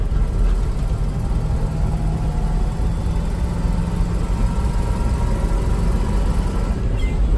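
A 1988 Land Rover Defender 130 V8 overlander pulls through its gears, a loud, steady low engine drone with road and wind rumble filling the cabin, without talk.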